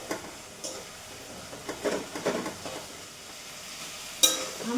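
Fish head with spices cooks in a pan as a quiet sizzle under several distinct stirring scrapes and a sharp clink near the end, all close by and without speech.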